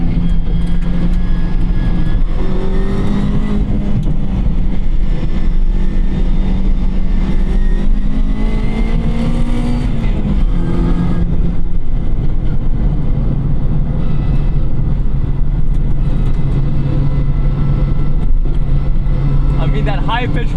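A track-modified Mazda MX-5 Miata ND2 on sticky tires runs at speed, its engine and high-pitched transmission whine rising and falling through gear changes, loud and close, with an induction note mixed into the steady drone and a voice speaking over it.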